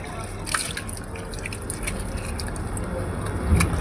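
Water is poured and drips while a car is being scrubbed, with splashes and trickles close by and people talking over it.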